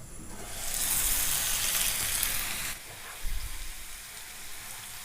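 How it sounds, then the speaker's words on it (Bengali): Potatoes fry in a pan for a vegetarian Bengali banana-flower dish, giving a loud, steady hiss that drops off sharply partway through, followed by a few quieter sizzles and low clatters. "আলুটা ভাজা হয়ে গেছে।"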